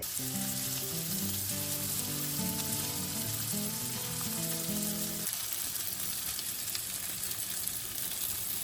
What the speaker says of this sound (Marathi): फ्रायंग पॅनान नेय तेल घातला हांवें. प्रॉन्स भाजया.